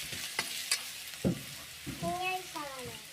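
Thinly sliced onions tossed into hot oil in a pan for chicken perattu, a brief close sizzle with a few sharp clatters and stirring knocks, and a faint voice-like murmur near the end.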